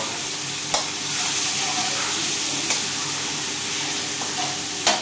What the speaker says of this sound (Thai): ผัดกะเพรา